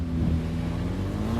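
An off-road vehicle stuck in beach sand revs its engine, a loud, close, continuous low roar held steady for a moment with no voices over it.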